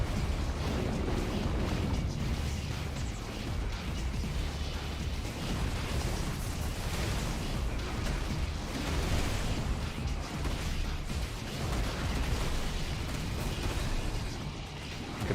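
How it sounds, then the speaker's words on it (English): Sustained rumbling blasts and bursts from a battle against a huge enemy in Final Fantasy 16, dense and continuous throughout with no pauses. "That was a small explosion."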